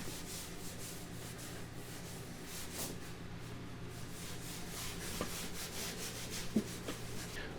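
A rag wipes patina polish thinly across a surface, making a soft continuous rubbing and swishing sound, close and quiet with faint handling noises and no talking.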